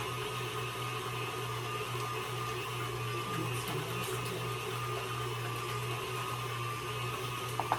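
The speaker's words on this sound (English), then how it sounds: "I like the sound of the mixer when it's not struggling." An electric stand mixer runs steadily with a smooth, even motor hum while mixing cake batter for a Louisiana crunch cake, unstrained and continuous throughout, with no talking.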